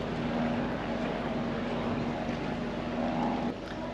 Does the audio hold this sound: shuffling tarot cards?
no